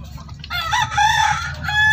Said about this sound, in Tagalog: nagpapakain na naman ng alagang manok early in the morning